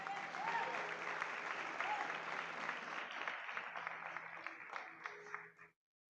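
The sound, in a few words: applause for the pastors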